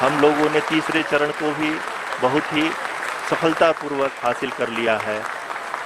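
Applause from an audience during the Chandrayaan-3 soft landing broadcast rises and falls steadily beneath continuous Hindi commentary, the clapping kept in the background by the talk.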